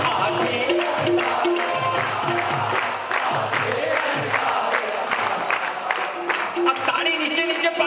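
Large crowd at a Jain religious gathering roaring and chanting together, loud and continuous with dense voices, clapping and cheers swelling throughout.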